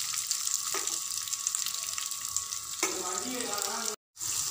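Sliced onions and chopped carrot sauté in a pan for vegetable rava kichadi, giving a steady close sizzle and crackle with occasional stirring scrapes, then a brief cut to silence.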